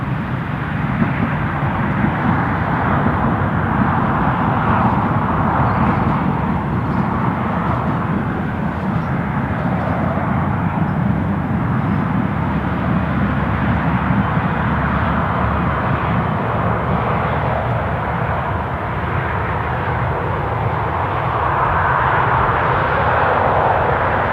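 Ryanair airliner at Newcastle airport, a steady loud broadband jet engine roar sustained for over twenty seconds with no voices.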